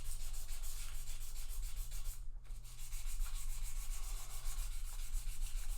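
Fine-grit sandpaper rubbing along guitar frets during a partial fret dressing, a continuous close scratchy hiss with a steady back-and-forth texture and one brief pause midway.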